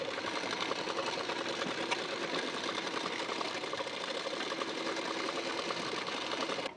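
A sewing machine runs steadily and continuously, topstitching along the edge of a puff sleeve's border, a fast even whirring and ticking held at constant loudness with no voices.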